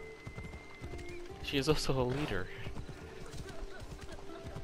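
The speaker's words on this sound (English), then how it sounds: "This is the first time I've seen like NPC like ride a horse." A horse ridden by a character in Assassin's Creed Odyssey clip-clops steadily nearby and lets out a loud whinny, under quiet background music and spoken dialogue.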